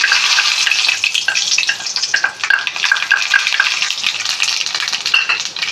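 Mustard seeds spluttering in one and a half spoons of coconut oil in a pan, a loud, dense crackle of rapid pops over a continuous frying hiss.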